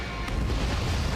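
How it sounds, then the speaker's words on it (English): A missile launch in the naval battle game World of Warships, a short heavy low rumble and boom filling the brief moment, loud and close, with no voices. "Missile launch."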